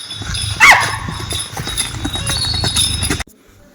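Hooves of a racing bull clop on the ground with a horse-like rhythm, a steady patter of close hoof strikes with a faint bell, ending abruptly.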